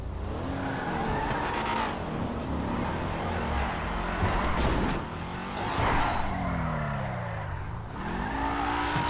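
Cars drag racing in the video game GTA 5, with engines revving and climbing through gears, repeated rising and falling pitch sweeps, and occasional tire squeal, continuous and loud throughout.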